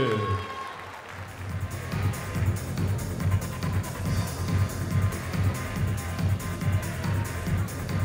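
Crowd applause fills a boxing evening at Parc Saint Paul after the first women's bout, a dense, steady wash of clapping that holds for the whole stretch with low rumbling underneath.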